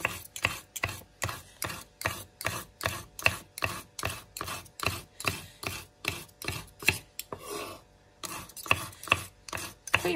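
A knife chops meat into mince for dolma on a board, steady rapid strikes in a regular rhythm, close and clear, with one short pause before the chopping resumes.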